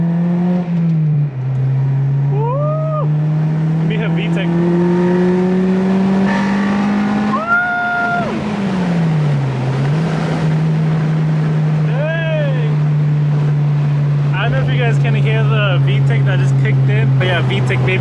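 Four-cylinder Acura RSX Type-S with an aftermarket exhaust revving up through VTEC, a steady droning engine note that rises and dips across the rev range, close and loud, with occasional faint chirps overhead.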